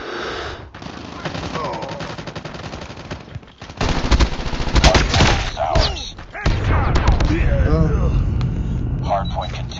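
Rapid bursts of machine gun fire in a Call of Duty multiplayer Hardpoint match, loud and sustained with heavy thuds between volleys, while voices call out over the shooting.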